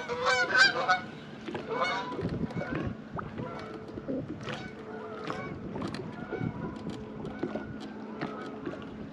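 Geese honking repeatedly near a lake during a bass fishing tournament, loud and close at first and then continuing in bursts, with outdoor ambience and someone speaking now and then.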